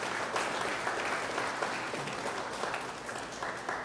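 Crowd at the launch of a national arts festival in Trinidad and Tobago applauds warmly and continuously, a dense, even wash of many hands clapping from start to finish.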